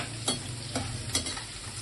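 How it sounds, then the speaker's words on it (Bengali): Ingredients for mixed fried rice lightly fried in a pan over medium heat, with a continuous sizzle and three evenly spaced spatula stir strokes, close up and without speech. "হালকা করে একটুখানি ভেজে নিচ্ছি"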